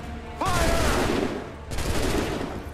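Musket volley in Assassin's Creed 3, a loud crackling burst of massed gunfire followed by a second volley about a second later, with a faint voice beneath.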